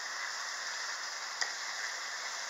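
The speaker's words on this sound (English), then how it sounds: "we can go as light or dark on the searing as we want to" Black Angus beef searing in a pan for osso bucco, a steady, even sizzle with a single faint tick, no talking.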